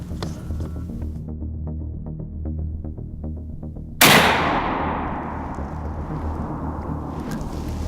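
A single loud gunshot from a hunter's gun during a whitetail deer hunt, cracking sharply over a steady low engine-like rumble and then decaying into a long rolling echo.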